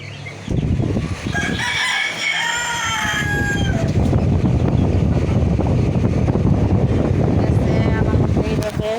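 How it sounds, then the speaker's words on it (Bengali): Hens clucking and a rooster crowing in a poultry yard where laying hens are kept, close and fairly loud with constant wind noise and bird chatter throughout; short bursts of clucking stand out over the steady din. "আরো ডিম পাড়তাছে মুরগিটি।"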